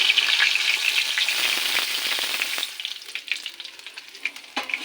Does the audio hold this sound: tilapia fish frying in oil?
yes